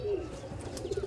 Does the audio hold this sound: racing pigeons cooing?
yes